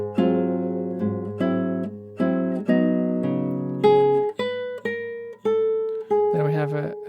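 Solo guitar plays a chord melody arrangement, a sequence of plucked chords, each ringing and decaying in turn, with a quick strummed flourish at the end, close and unaccompanied.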